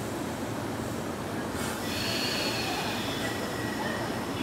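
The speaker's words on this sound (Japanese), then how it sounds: "2番線から電車が発車します。" An old Hanshin Railway Jet Car train rumbles and hisses at a station, with a steady roar of wheels and a faint high squeal as it pulls away.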